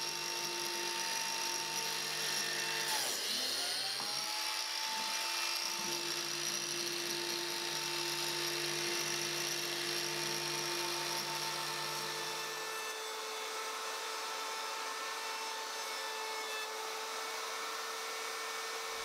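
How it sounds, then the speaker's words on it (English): Router table rounding over wood edges sounds as a loud, continuous high-pitched whine. It dips briefly near the start as the cut bites, then runs steadily and eases slightly toward the end. "I'm actually going to take this to the router table and round over all of these edges here"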